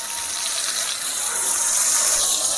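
Water-thinned spice paste of cumin powder and Kashmiri chilli powder pours steadily into a cooking pot for a village-style fish-head curry with solfa leaves, a continuous close, gushing splash with no voices.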